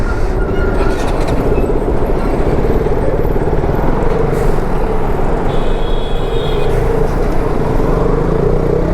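Dense traffic jam on the old Mumbai highway, a continuous rumble of idling and creeping engines with occasional horns, heard close from a motorcycle.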